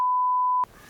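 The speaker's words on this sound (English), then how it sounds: "get ready for the beep button" A loud, pure censor beep covers profanity on a talk show, one steady tone over half a second that cuts off sharply into quiet room noise.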